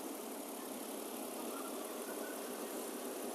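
A 1997 Mercedes SL320 R129 convertible engine idles in a steady, even hum with faint ticking, unchanging throughout with no one talking.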